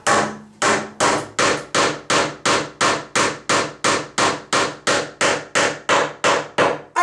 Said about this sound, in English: if I drive my nail all the way in